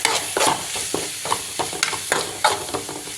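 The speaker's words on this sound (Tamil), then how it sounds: "அப்புறம் கொஞ்சம் ஒரு 2 செகண்ட் மட்டும் அதை வதக்கி விடுங்க." Maggi noodle masala stir-fried in oil in a pan, a spatula scraping and stirring in repeated strokes over a steady close sizzle.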